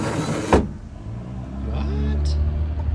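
An electric motor, freshly hooked up, whirs into motion after a sharp click, rising in pitch briefly then settling into a steady close hum, with a voice speaking over it.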